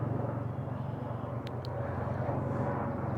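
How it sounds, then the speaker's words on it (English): A large airplane flying overhead, a broad, steady low rumble that holds evenly throughout, with a couple of brief sharp ticks partway through. "a plane, massive plane just flew by"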